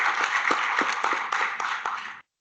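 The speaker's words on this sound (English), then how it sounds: "round of applause" A small audience at a climate and agrifood policy dialogue applauds a speaker, brief, fairly quiet clapping with a few distinct individual claps before it cuts off abruptly.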